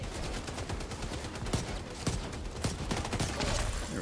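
Rapid gunfire from a firefight in The Division 2, a dense string of sharp shots running steadily throughout with a few louder cracks standing out, including a headshot.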